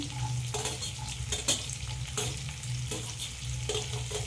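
Cauliflower, beans, capsicum and carrot sizzle steadily in hot oil for a vegetable dal, with a spatula scraping and stirring the pan at irregular intervals, close and clear with no talking.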